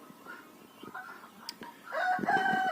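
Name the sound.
chickens (laying hens) clucking and rooster crowing in yard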